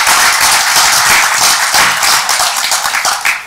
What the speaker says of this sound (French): Je crois que rien que pour cela, on pourrait peut-être l'applaudir.